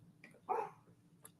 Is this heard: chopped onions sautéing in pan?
no